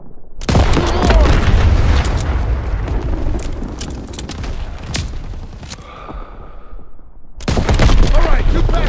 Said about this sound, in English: Hit the ammo boxes, Daniels!